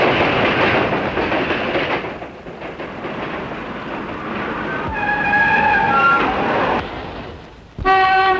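A train rumbles past with a steady roar, then tonal screeching and a horn-like whine rise over the rolling noise before a sharp loud burst near the end.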